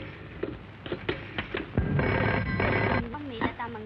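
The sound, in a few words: telephone ringing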